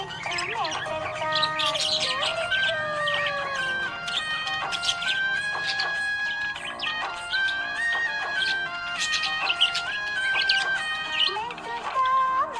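A happy budgie chirps and tweets in quick bright bursts, warbling high calls and squeaks repeating close by throughout, with no talking.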